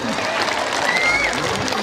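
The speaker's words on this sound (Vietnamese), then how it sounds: "Một tràng pháo tay cho ông già Noel" Brief applause rises for Santa Claus at a 2017 Christmas carol performance at a Catholic parish church, a crowd clapping together with voices mixed in.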